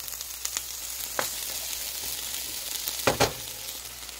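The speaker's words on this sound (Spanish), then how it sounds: "lo vamos a dejar a que se guise un poquito con la mantequilla" Thawed frozen corn kernels cook with a little butter in a saucepan, giving a soft, steady sizzle, broken by a few quiet clicks and scrapes of stirring.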